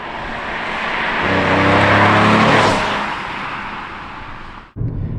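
A BMW E38 750 with a V12 engine driving by, its engine hum swelling loud and close and fading again, then cutting off abruptly before a short burst of road noise.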